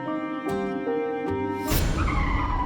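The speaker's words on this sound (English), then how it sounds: "the couple heard a screeching noise as a car came swerving down the road" Car tires screech loudly as a vehicle skids and swerves, the squeal rising sharply after a tense musical drone.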